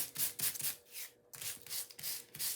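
Rhythmic rubbing of a sanding block over paper, a series of close scratchy strokes with a brief pause midway.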